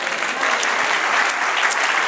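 A church congregation applauds during a sermon, a thick, loud, continuous spatter of clapping from many people, unbroken from start to finish.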